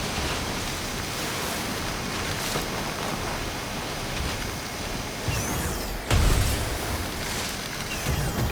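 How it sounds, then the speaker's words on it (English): Heavy rain falls in the video game SYNDUALITY Echo of Ada as a dense, steady hiss that washes over everything, with a brief low thump partway through. "We won't last long in a heavy fall like this. Find cover from the rain on the double."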